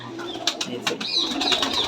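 Rajshahi Giribaz pigeons coo in short, soft, overlapping bursts close by, with faint chirps mixed in.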